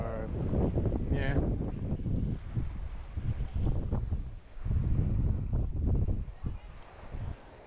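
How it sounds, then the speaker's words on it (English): Steady wind buffeting the microphone while kiteboarding on open water in Bermuda, a continuous rushing roar that rises and falls, with a person talking over it. "The wind is kind of down again."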